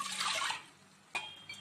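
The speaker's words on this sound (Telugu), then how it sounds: "చూడండి ఒకటికి మూడు వాటర్ వేస్తున్నాను నేను." Water splashes into a bowl while ragi mudda is being prepared. A short pour opens the sound, followed by a quiet gap and then a second brief splash and trickle.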